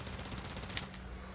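Rapid automatic gunfire from a weapon in the shooter Warframe rattles in an even, fast rhythm at a moderate distance, fairly quiet, then breaks off near the end.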